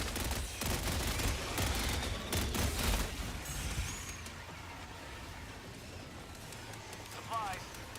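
Mortar and stratagem bombardment in the Helldivers video game: a dense, continuous barrage of distant blasts and gunfire rumbling through the first few seconds, then thinning to a lower background roar, with voices talking over it.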